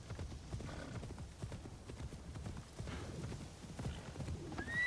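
Horse hooves clip-clop in a quick steady rhythm as a mount gallops in Assassin's Creed Shadows, with a brief whinny near the end, fairly faint.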